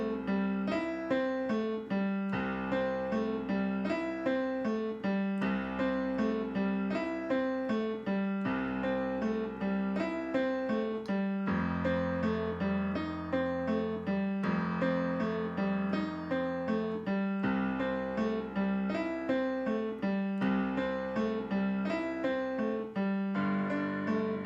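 Piano played in New Orleans style, right hand rolling a steady rhythmic riff over plain left-hand root notes, continuous and close for about twenty-five seconds with no voices.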